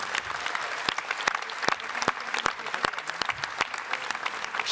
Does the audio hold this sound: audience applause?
yes